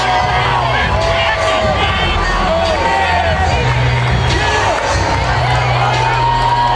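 A boxing arena crowd at the 2003 Evander Holyfield vs James Toney heavyweight fight cheers and shouts steadily as a fighter enters, a dense, sustained roar with a commentator talking over it.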